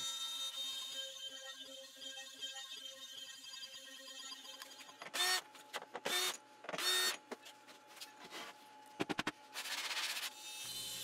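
An X-Carve CNC router cuts a plywood side piece for a trebuchet: a steady mechanical whine with a faint hum, broken by several loud bursts of cutting noise, with no talk.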